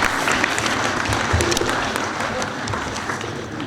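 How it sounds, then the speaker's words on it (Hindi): An audience at an annual community function in Faisalabad gives sustained applause, a dense roar of clapping with occasional louder claps and low murmur beneath, fading slightly toward the end. "आपकी भरपूर तालियों में।"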